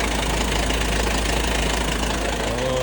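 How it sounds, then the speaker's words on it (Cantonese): A 2023 Isuzu KV100 light truck with a 2.5-litre, 132-horsepower engine idles steadily nearby, a constant low mechanical rumble with a faint knocking texture and no talk. "聽下機頭先"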